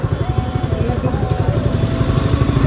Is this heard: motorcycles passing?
yes